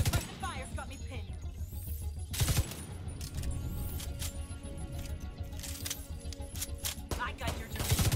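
Gunfire in a Division 2 firefight crackles through the stretch, with bursts of shots, sharp impacts and metallic clinks around a voice.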